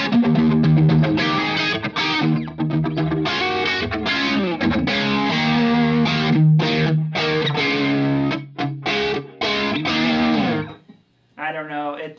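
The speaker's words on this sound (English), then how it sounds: "it really comes alive whenever you turn the distortion on." An electric guitar plays through a 1985 Yamaha SPX90 set to chorus, with distortion switched on. The playing is loud, choppy and strummed, then breaks off briefly before one last short burst.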